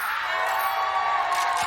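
An esports arena crowd cheers during a Valorant match between Sentinels and G2, a steady, loud wash of distant cheering and whoops with no clear breaks.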